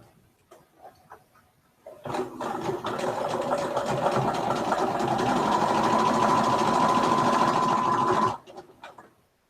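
A sewing machine stitches a Dear Jane iris medallion quilt block, running in one steady, loud, continuous whir for about six seconds, with a few soft handling clicks before and after.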